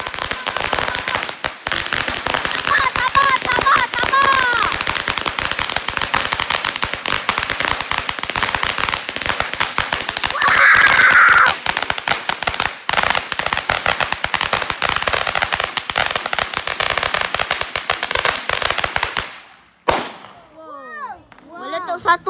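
Rapid, dense crackling of firecrackers bursting continuously for many seconds during Hari Raya Aidilfitri celebrations, loud and close, before cutting off abruptly into quieter voices.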